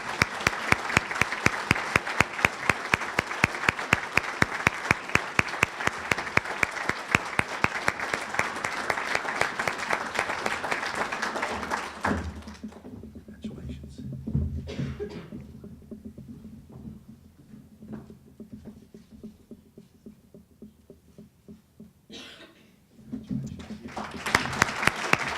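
An audience applauds a police officer receiving a Red Cross award at an East Idaho community heroes ceremony. Dense, steady clapping fills the first twelve seconds, then drops to quieter room noise with a few scattered claps and a brief late burst.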